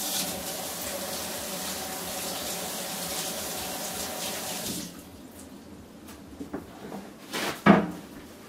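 Tap water rinsing a meat grinder blade, a steady close stream for about five seconds, then it stops and a few clunks and a sharp knock of metal follow.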